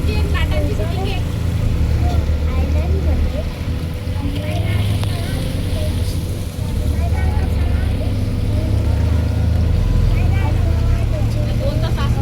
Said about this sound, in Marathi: पण बाजूला एक बोट जात आहे.